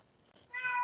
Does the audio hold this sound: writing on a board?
no